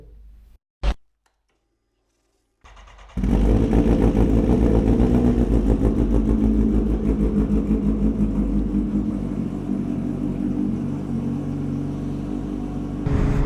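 A Kawasaki Ninja H2 motorcycle engine fires up after a brief click and pause, then settles into a loud, close, steady idle with a rough pulsing rumble, no talking.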